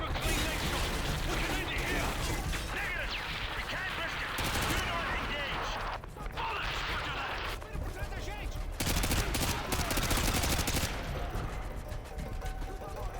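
Gunfire in the video game Call of Duty: Modern Warfare 2, dense bursts of automatic fire and explosions rattling almost continuously with brief gaps, loud and close, with someone talking over it.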